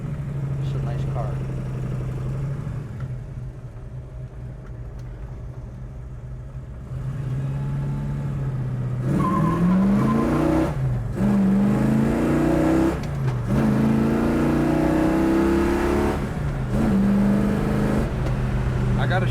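A 1967 Chevrolet Chevelle V8 rumbles steadily from inside the cabin, then the engine note climbs in rising sweeps of acceleration through several gears, loud and close, with occasional speech mixed in.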